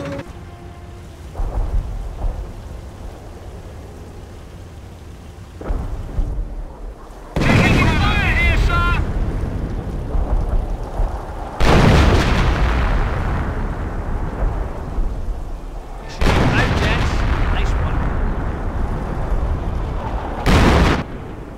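Heavy booming artillery barrage explosions in a Company of Heroes video game battle, landing in repeated bursts, each a loud rumbling blast that rolls off, with quieter gaps and faint background noise between them.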